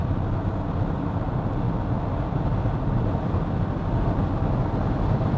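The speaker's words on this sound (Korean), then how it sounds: "가속 페달을 한번 꾹 밟아본다" Peugeot e-2008 SUV electric car accelerating hard at about 110 km/h on a highway, heard as a steady, dense cabin roar of road and wind noise without pauses or voices.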